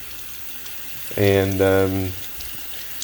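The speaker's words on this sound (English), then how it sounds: "I just fill them up, literally just fill them up and lay them down." Tap water runs into a jar of sprouts to rinse them, a faint steady trickle under a short spoken word that briefly rings out over it.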